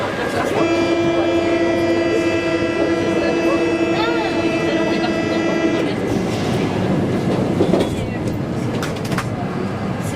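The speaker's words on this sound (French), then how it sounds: "il y a un deuxième métro qui circule" Old Paris metro train on line 3 bis running on rails, a sustained high whine from the motors fading after several seconds into rumbling wheel and track noise, close and loud inside the carriage.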